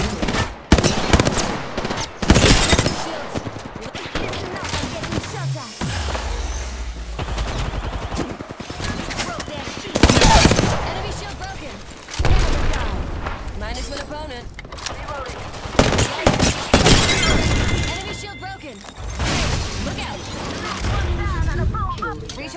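Rapid gunfire bursts from a Volt SMG in Apex Legends ranked play, loud and close, with several separated volleys and breaks, mixed with game effects and a voice talking in places.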